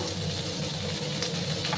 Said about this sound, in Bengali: আমি ঢেঁড়সগুলোকে একটু ভাজা ভাজা করে নেবো।